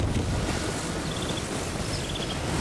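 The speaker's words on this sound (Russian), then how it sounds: "Ух, ветрище-то какой." Strong wind roars over open water in the video game The Legend of Zelda: Tears of the Kingdom, a loud, steady rushing blast with surf-like wash and faint whistling tones, no voices.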